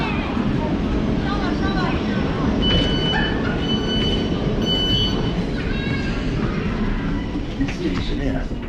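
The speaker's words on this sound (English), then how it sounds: "This train has 12 coaches." A twelve-coach train rolls along the rails with a dense, constant rumble and faint squeals of wheels and brakes throughout, heard from inside the carriage.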